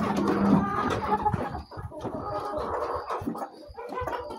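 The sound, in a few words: chickens clucking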